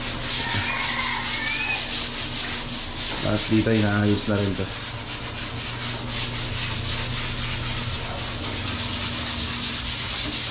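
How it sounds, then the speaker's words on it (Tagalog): Hand sanding rasps steadily throughout, a continuous scratchy rubbing with a brief hum partway, while a person speaks briefly. "Kaya ito, mano-mano yung liha na ginagawa rito."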